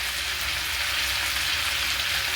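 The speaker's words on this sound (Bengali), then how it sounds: "এবার এই তেলেতে আমি ফোড়নটা দিয়ে দেবো তেজপাতা দুটো শুকনো লঙ্কা আর পাঁচ ফোড়নটা" Bay leaves, dried red chillies and Bengali five-spice tempering sizzle in hot oil for a poi shak chorchori, a steady close crackling hiss that stays even throughout with no voices.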